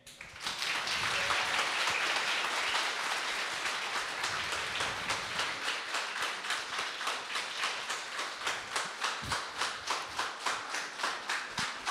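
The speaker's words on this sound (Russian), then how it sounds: "Аплодисменты, переходящие в овации." A lecture audience breaks into sustained applause that settles into rhythmic, synchronized clapping, loud and continuous throughout.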